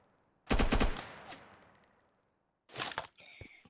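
A rapid burst of automatic gunfire from a Minecraft game, loud and close, fading out, then a second short burst with a faint electronic tone after it.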